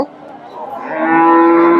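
A cow lows at a cattle market selling Friesian cross dairy cows, a single sustained moo that swells from a soft start into a loud, steady call lasting nearly two seconds, with no talk over it.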